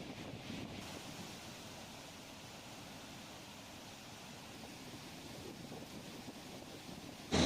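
A heavy, rushing torrent of river water flows past after release from Madhuban dam during heavy rain, making a dense, steady roar like surf with no voices.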